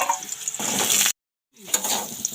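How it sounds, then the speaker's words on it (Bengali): Potatoes and kohlrabi frying in oil in a wok give off a steady, close sizzling hiss that cuts out completely for a moment, then resumes. "আমি কিন্তু কড়াইয়ের মধ্যে তেল দিয়ে দিয়েছি আমি কিন্তু এই আলু আর ওলকপিটাকে ভেজে নেবো"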